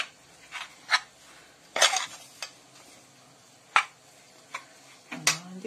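Chocolate, strawberry and a spoonful of butter are mixed in a bowl for homemade truffles, with sparse, quiet clinks and scrapes of a utensil against the bowl at irregular intervals.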